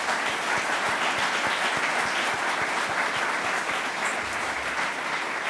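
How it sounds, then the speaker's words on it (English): An audience at a city State of the City address breaks into dense, sustained applause, a loud wash of many hands clapping together for several seconds. "Let's give him a round of applause."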